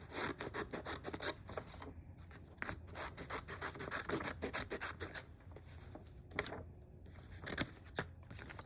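Scissors cutting away excess from printed sublimation paper, quick scratchy snips and paper rustling in close, irregular bursts at low volume, no voices.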